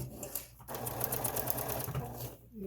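A sewing machine stitches the casings of a fabric face mask, a fast steady mechanical whir with rapid needle clatter, close and continuous for about two seconds before stopping, with a low voice faintly underneath.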